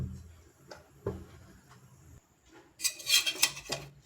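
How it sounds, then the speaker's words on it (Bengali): A tawa griddle pan set down on a gas stove: scattered clanks and scrapes early on, then a louder burst of metallic rattling and ringing near the end. "তাওয়া বসিয়ে দেব।"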